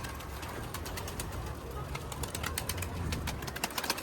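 Mardin pigeons cooing close by in a loft, soft repeated coos over a steady background of rustling and small clicks.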